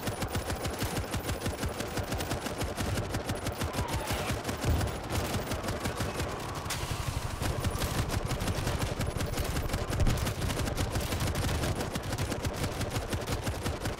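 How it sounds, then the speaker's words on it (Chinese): Rapid, sustained machine gun fire from World War Z during a zombie fight at a Tokyo port, loud dense bursts running continuously with a steady rattling rhythm. "我机枪差点打到你们"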